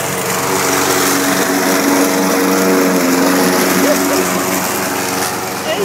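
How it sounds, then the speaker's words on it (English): A lawn mower engine runs steadily and loud throughout, with a constant high droning whine that holds level for the whole stretch and no pauses or breaks in its sound. "I did not tell him to mow, by the way."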